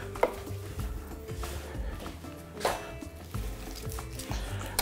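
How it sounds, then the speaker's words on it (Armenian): Fresh parsley being finely chopped with a knife, with soft, quick knife taps on a board in a steady run, close but fairly quiet under a low background hum. "մանր կտրատում ենք"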